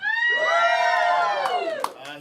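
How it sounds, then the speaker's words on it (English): A comedy club crowd erupts in loud cheering and whooping. A single rising roar of many voices sustains for about two seconds, then trails off with scattered shouts. "He said as the crowd went absolutely insane."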